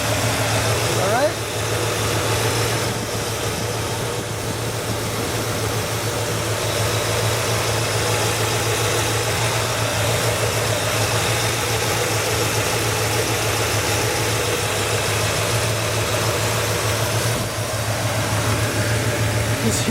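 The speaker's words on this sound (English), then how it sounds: "Just hear how smooth this engine sounds." A 1967 Cadillac Eldorado's engine idles smoothly and steadily, a constant low hum heard close throughout with faint background noise and no talking.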